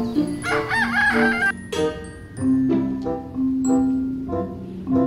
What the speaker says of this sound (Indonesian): ternyata isinya adalah hewan ayam, teman-teman. Ayam jago